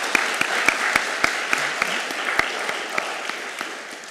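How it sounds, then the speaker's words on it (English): A small audience at a talk about the Attica prison uprising gives scattered applause: a few distinct, spaced hand claps stand out over a soft room murmur, fairly close and moderate in volume. "And for that, we applaud her."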